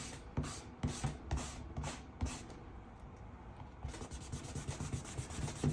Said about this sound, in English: So now I'd rub it out and see what we're left with.